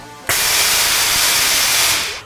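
A black aerospike nozzle fed with compressed gas from a fire extinguisher blasts in a thrust test, giving a sudden, loud, steady hissing roar that lasts about two seconds before it begins to fade.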